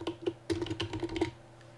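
A short, close burst of computer keyboard typing, a quick run of crisp keystrokes for about a second before falling silent.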